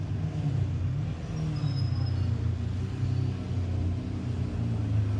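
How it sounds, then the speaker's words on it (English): A Lamborghini Aventador SVJ supercar passing, heard as a steady low engine rumble with traffic noise around it and no sharp rise or fall. "The Aventador SVJ is coming. Wow, look at that incredible sound"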